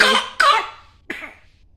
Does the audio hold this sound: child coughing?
yes